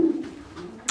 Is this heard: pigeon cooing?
yes